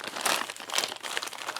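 A simple plastic bag from a Latvian field ration pack is handled and crinkled close up, giving continuous soft rustling and crackling with no talk.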